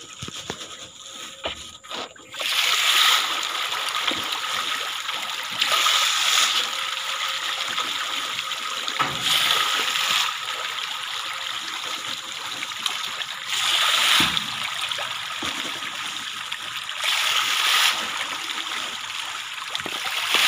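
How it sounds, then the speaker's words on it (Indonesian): River water flows into an earthen pond used for fast-water tilapia farming, a steady, broadband rush that runs close and loud for the whole stretch with small surges and no one talking. "ini aliran sungai yang masuk."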